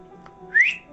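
A narrator voices a sharp, rising whistle imitating a bird calling its warriors, one brief loud note standing alone after a short quiet lead-in.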